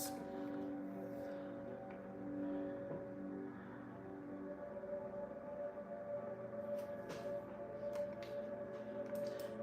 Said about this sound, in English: The siren's still going off.